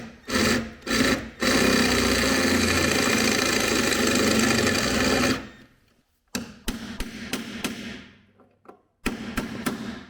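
A drill bores out a rivet on the front bumper of a Ski-Doo Expedition snowmobile, with a few short bursts and then a long, loud grinding run, followed by choppy, intermittent drilling after a brief pause.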